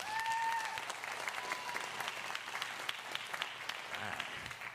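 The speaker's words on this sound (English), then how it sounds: "So give them a round of applause real quick" Steady round of audience applause at a high school Indian education event, a continuous wash of many hands clapping, fairly soft and even throughout.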